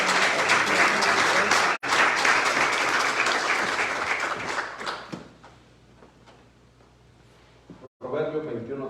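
A church congregation breaks into strong applause to God, loud sustained clapping that gradually thins and fades, then a voice resumes at the end.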